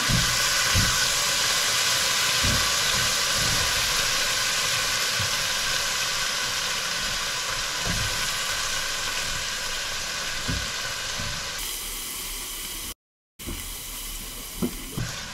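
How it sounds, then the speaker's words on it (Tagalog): Food sautéing in a pan gives a loud, steady sizzling hiss with soft knocks and stirring bumps, briefly cutting out near the end before resuming; no one speaks. "Tapos, igigisa mo ito."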